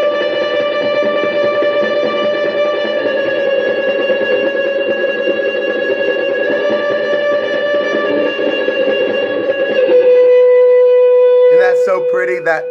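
Sustained electric guitar tones drenched in reverb and echoing delay, playing a worship song, ringing steadily before a brighter chiming phrase near the end.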